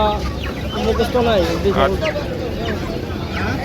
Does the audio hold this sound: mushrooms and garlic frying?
no